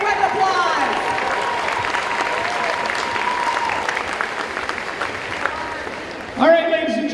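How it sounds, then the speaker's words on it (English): A crowd at a high school pep rally claps in sustained, dense applause that fills the space and fades toward the end, followed by a voice starting to speak. "A big round of applause."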